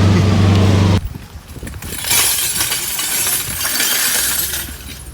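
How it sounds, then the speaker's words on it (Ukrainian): Broken window glass from a school damaged in an attack is swept and gathered by workers, with bright clinking and shattering scrapes that continue steadily after a loud low rumble at the start. "Працівники прибирають вибите скло зовні та всередині школи."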